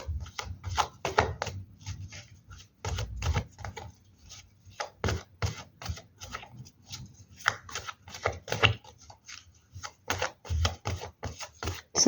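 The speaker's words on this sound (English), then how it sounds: "So here I see I'm shuffling" Tarot cards being shuffled by hand, repeated crisp riffling bursts and soft slaps in an irregular rhythm, close and clear with no talk over them.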